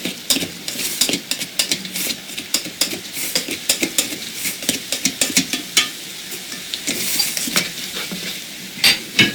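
Cooked rice being fluffed in a pot, heard as a steady run of close scraping and clinking strokes from a utensil against the pot, with soft sizzling in the background and no talking.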